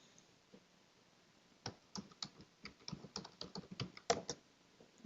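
Typing on a computer keyboard at a workstation, a quick irregular run of near, crisp key clicks that starts after a quiet opening and builds into dense bursts, with no voice over it.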